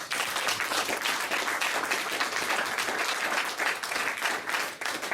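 A church congregation applauds the Lord, steady dense clapping from many hands sustained for about five seconds, fairly loud and without talk.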